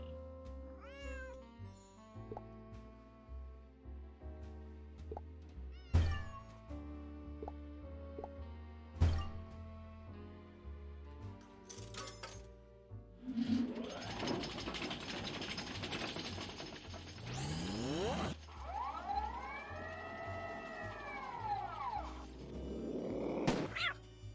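A cat meows in the Nancy Drew Dossier: Lights, Camera, Curses game, a few short cries amid clanks, mechanical ratcheting and gear sounds, later swept by louder whooshing game effects.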